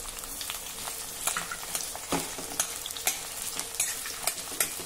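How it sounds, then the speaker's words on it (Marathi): Two large vertically sliced onions frying in plenty of oil, stirred steadily with a utensil, a continuous close sizzle marked by regular scraping clicks of the spoon against the pan, with no voices. "आता हे कांदे जरा हलका तांबूस रंगावर होईपर्यंत आपल्याला परतायचे आहे।"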